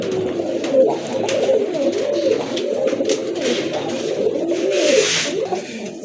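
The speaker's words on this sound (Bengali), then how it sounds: "টপ লেভেলের এক জোড়া কবুতর" A pair of high-grade pigeons offered for sale coo steadily and fairly close throughout, a low rolling murmur with overlapping calls and no voices.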